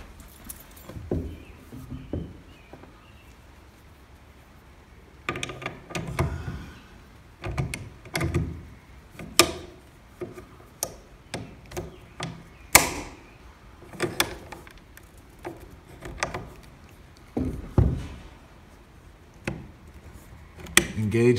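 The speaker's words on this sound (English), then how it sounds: "So now we'll reinstall the bolt and make sure that everything functions" Bolt being reinstalled in a No1 Mk3 SMLE rifle, a series of close metallic clicks, knocks and sliding clacks at irregular intervals, with faint quiet background between them.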